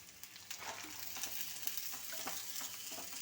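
Carrots, potatoes and beans sizzle steadily in a pan while being stirred, with soft scraping and crackling that stays close and even throughout, without any talk.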